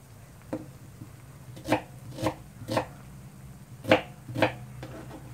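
A knife chops peeled onions for a fish curry in a home kitchen, giving about six distinct, moderately close knocks in an uneven rhythm over a low background hum.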